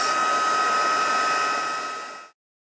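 A heat tool blows loudly and steadily while melting embossing powder for card making, a close whirring hum with a high tone that cuts off abruptly after about two seconds, leaving silence.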